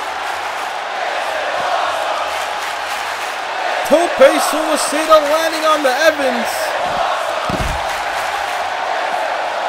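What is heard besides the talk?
crowd cheering in video game WWE 2K20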